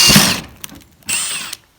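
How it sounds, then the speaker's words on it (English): Drill boring out rivets on a Nissan S13 body, near fiberglass: two short, loud bursts of high-pitched whirring with a brief gap between, each ending in a small click, no talking. "you basically just get a drill bit bigger than what the rivet would be, and then just drill it out"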